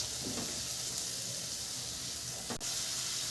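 Two medium chopped onions cooking in a pan over a medium flame give off a soft, even hiss with a brief sharper burst near the end, faint and close, no voices.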